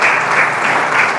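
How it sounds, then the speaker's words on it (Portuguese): Church congregation clapping in praise during a sermon, a short burst of loud, dense applause from a close crowd. "aplauda o nome do Senhor Jesus"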